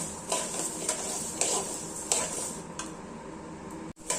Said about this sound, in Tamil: அரிசி பொரியிற சத்தை கேட்குது